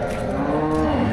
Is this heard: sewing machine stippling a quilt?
no